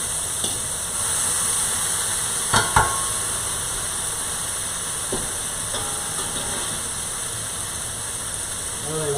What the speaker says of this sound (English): they walk through the dining room with this sizzling platter